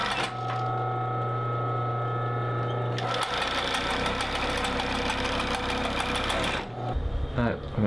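Sewing machine stitching a canvas stiffener across the top of a coat patch pocket lined with cotton silesia, a steady close whirring run that shifts to a denser, brighter pace midway before stopping.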